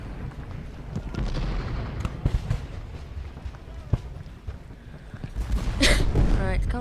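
Cannons fire in the Ultimate General: Gettysburg game, a series of booming artillery shots spread across the scene over a rumbling battle background, with a louder burst toward the end and talk running beneath.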